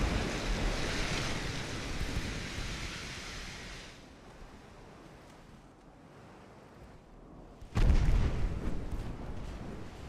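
Ocean waves and wind roar steadily in Ultimate Admiral: Dreadnoughts, a Japanese Empire naval battle, softening midway before a sudden loud, deep boom of ship gunfire lands near the end, with rumbling surf continuing after.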